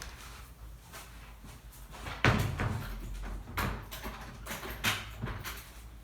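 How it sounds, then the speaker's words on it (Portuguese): A door being shut and locked indoors: a few solid clunks and latch clicks at moderate distance, separated by quiet room tone. "Peraí que eu vou trancar a porta."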